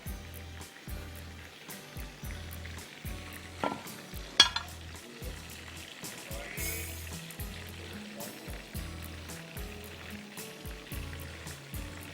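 Chicken kebabs fry in hot oil in a pan, with a steady sizzle and crackle broken by regular stirring or turning sounds and a few sharper spatters, without any talking.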